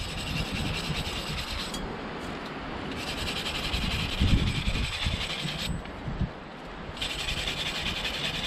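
Scrubbing corrosion off the rear wheel hub of a BMW 1 Series during a brake disc change: a steady, close, harsh rubbing hiss in long continuous strokes, with brief pauses between passes.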